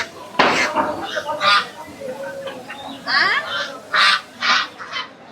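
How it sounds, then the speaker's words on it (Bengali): Desi ducks quack at a village market, several loud, nasal calls in bursts close by, mixed with people talking. "দেশি হাঁস তো নাই, পাওয়া যায় না। এটা দেশি,"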